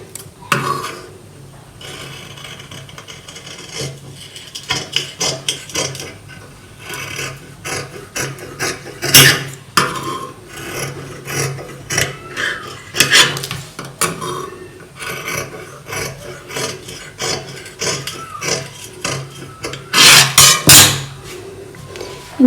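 Scissors cutting fabric for a frock, a sequence of close, crisp rasping snips and rubbing strokes with pauses between cuts, some louder bursts near the end.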